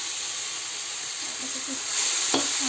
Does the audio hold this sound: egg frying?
yes